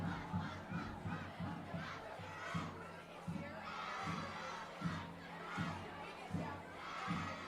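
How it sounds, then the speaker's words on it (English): Crowd noise at a fourth-quarter varsity football game, Vineland against Lenape, sustained and fairly distant, with rhythmic low chanting or drumming running underneath it the whole time. "the crowd continues to get into it"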